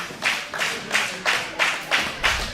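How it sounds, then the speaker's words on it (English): A crowd at a wrestling thumbtack deathmatch claps in unison, six steady rhythmic beats about half a second apart, moderately loud and slightly distant. "Now crowd's clapping."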